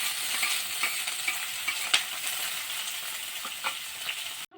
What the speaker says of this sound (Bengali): তার মধ্যে দিয়ে দিম আমি তেল। দিয়ে দিমু পেঁয়াজ আর কাঁচামরিচ।